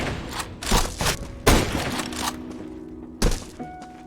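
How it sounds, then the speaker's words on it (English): Flashbang grenades in a first-person shooter go off as sharp, loud bangs, several in quick succession with spaced bursts and ringing tails. "Flashbang out."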